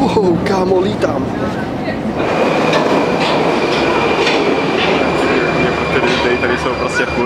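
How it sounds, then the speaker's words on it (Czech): A train rumbles and clatters past up close, loud and continuous, with a high metallic squeal running through it and voices speaking over the noise. "Normálně nějaký vlak, který přijel ze spod zemí"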